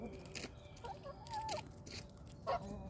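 Chickens cluck in short bursts amid a busy farmyard while feeding on cabbage, with a couple of sharper squawks standing out near the end.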